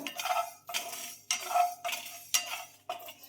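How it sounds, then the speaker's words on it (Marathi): Mustard seeds dropped into a pan for green chilli pickle, giving about five separate bursts of crackling, sizzling patter spaced roughly half a second apart, close and fairly quiet. "आता मी मोहरी टाकते यात"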